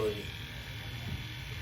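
An Oster Octane cordless hair clipper runs with a steady, close electric buzz throughout the short stretch, at even loudness.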